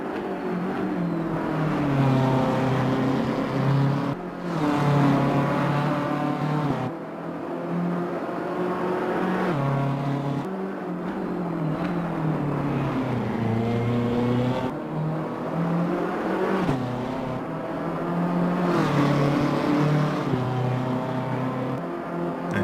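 A BMW M4 GT3 racing around Mount Panorama in Assetto Corsa Competizione, its engine howling loud and close at full throttle through long rising runs that break briefly at each gear shift, alone without talk.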